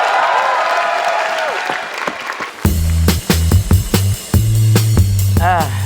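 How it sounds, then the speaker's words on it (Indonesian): A studio audience at a televised stand-up comedy contest claps for comedian Rian in a dense burst of applause that lasts a couple of seconds before loud, tonal music takes over. "Langsung saja tepuk tangan untuk Rian."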